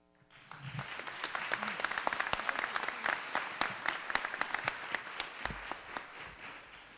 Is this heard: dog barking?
no